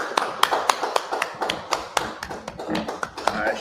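Sparse group clapping at a religious class gathering, a handful of sharp, uneven hand claps scattered across a few seconds rather than a full applause.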